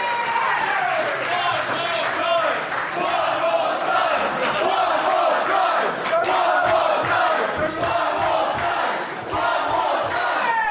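Wrestling crowd at a live match between David Francisco and Karim Brigante roars and yells continuously, a dense, loud wall of cheering and shouts with rising whoops throughout.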